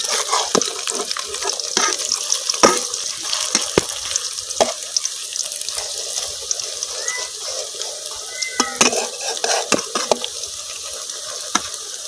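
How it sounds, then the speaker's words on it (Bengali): Greens pakoras made from data shak stems frying in hot oil, a continuous close sizzle broken by sharp scraping clicks as the fritters are flipped, with no voices. "এখন আমার এই বড়াগুলোর এক পাশ হয়ে গেছে, আমি আরেক পাশ উল্টাই দিতেছি।"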